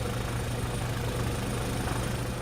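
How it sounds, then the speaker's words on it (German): A helicopter stringing a pilot rope along a high-voltage power line toward the next pylon gives a steady, dense rotor and engine drone that holds level throughout, with no talk. "Für den Heli geht es mit dem Vorseil weiter zum nächsten Mast."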